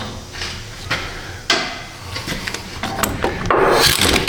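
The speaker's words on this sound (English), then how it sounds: "Try to pull the bolts out of the bearing." Wheel bearing bolts on a Nissan Frontier being worked loose, with close scraping, rubbing metal-and-grit sounds and a few sharp knocks in irregular bursts, no talking.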